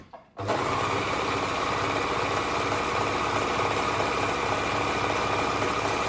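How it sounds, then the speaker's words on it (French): A three-thread overlock serger runs steadily, stitching a seam with a dense, continuous mechanical whir that starts abruptly and holds even and loud throughout. "On appuie sur la pédale et ça nous fait un surjet"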